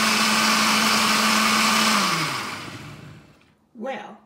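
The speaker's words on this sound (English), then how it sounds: "So let's just try the new blender. So I'll put it on stir first." A new blender whirs on its stir setting, mixing milk and orange juice with a loud steady motor drone that winds down and stops, followed by a brief voice.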